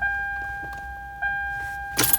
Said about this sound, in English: So let's put the ignition in the on position.